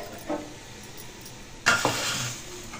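Roasted coconut mixture being stirred in a kadai, with a brief scrape early on, then a louder clatter of utensil against the pan followed by a steady soft sizzle.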